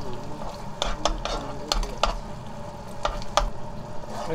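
Dried pollock stir-fried in gochujang sauce, a spoon scraping and clacking against the pan in irregular strokes over a continuous close sizzle.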